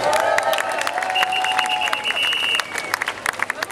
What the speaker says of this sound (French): Il est là, vous pouvez l'applaudir.